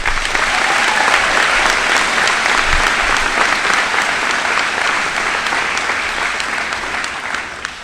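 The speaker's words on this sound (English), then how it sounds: "How about a round of applause?" A loud, dense round of crowd applause fills a 2024 Sterling High School graduation ceremony, sustained and even before tapering slightly at the end.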